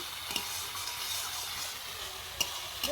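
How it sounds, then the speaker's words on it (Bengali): A tomato paste masala stir-fries in a pan with a soft, continuous sizzle, broken by a few sharp scrapes of a spoon. The dish is an egg and pointed gourd curry. "একটু ভালো করে কষে নেবো, নাহলে টমেটো দিয়ে কাঁচা গন্ধ ছাড়বে।"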